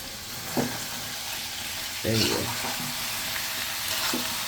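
Greens and curry fry in a pan with steady sizzling and brief stirring scrapes, while a person talks over the cooking.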